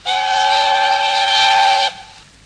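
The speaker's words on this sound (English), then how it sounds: "Presently, he heard a whistle." Steam engine whistle, a single loud sustained blast lasting nearly two seconds before cutting off, leaving faint hiss.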